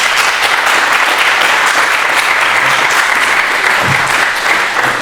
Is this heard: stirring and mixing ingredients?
no